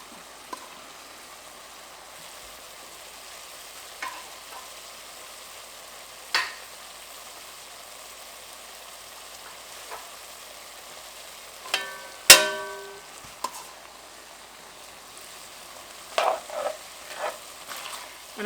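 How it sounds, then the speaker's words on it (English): Onions fry in a pot for Texas chili with a faint, steady sizzle, broken now and then by soft clinks and scrapes of stirring. "I'm going to add the onions now."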